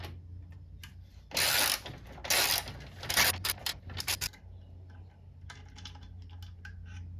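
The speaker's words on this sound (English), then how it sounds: "we're going to take off this little bolt, and this is a 12 millimeter." A ratchet wrench backs out a 12 mm bolt holding the horn on a Toyota FJ Cruiser, giving short bursts of loud, rapid clicking in a few separate spells over a low steady hum.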